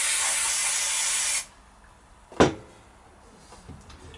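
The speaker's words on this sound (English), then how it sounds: "now just spray some of this adhesive on." Spray adhesive hissing from a can onto a training shoe in one steady burst of about a second and a half, followed by a single sharp knock and faint handling noises.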